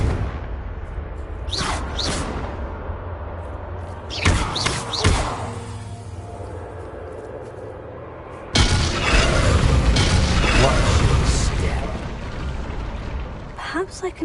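In Hogwarts Legacy, a cast Confringo spell lands as a sudden heavy blast that swells into a sustained loud roar. Earlier thumps and whooshes come first, and speech-like game sounds run alongside.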